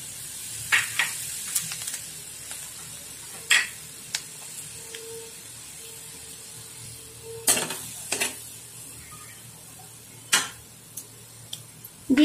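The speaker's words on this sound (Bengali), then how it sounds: "এবার এর মধ্যে দিয়ে দেব গোটা জিরে" Whole cumin seeds sizzle in hot oil in a pan while cooking matar paneer, with a steady soft hiss broken by occasional sharp clacks of stirring against the pan.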